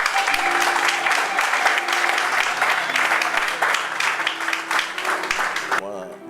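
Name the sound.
congregation applauding the Lord in church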